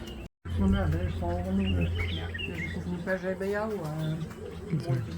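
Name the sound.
golden weaver calling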